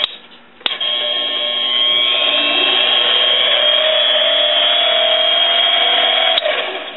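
A repaired mini lathe motor runs steadily for several seconds after a click, a smooth continuous whine with a slight rise in pitch partway through, then stops with another click; no talking.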